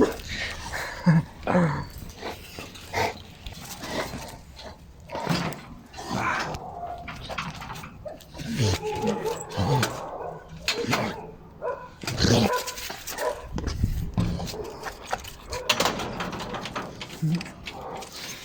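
Dogs bark in short bursts at moderate distance, mixed with someone talking over much of the stretch.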